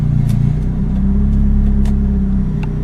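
A car engine fitted with a 420a IAC valve delete idles close up, a loud, steady low rumble with a slightly uneven pulse and a few faint clicks.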